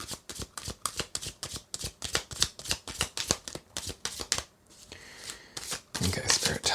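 Tarot cards being shuffled close up, a rapid rhythmic series of sharp slapping card strikes for several seconds, then a brief pause with a voice speaking quietly before the shuffling resumes louder.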